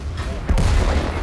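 Artillery fire in the World of Tanks video game: a heavy, low booming blast strikes midway and rumbles on afterward, loud and close.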